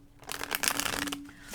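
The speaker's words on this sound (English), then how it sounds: "One more shuffle." Tarot cards are shuffled close by in one quick riffling burst of rapid papery flicks, loud and crisp for about a second, heard alone.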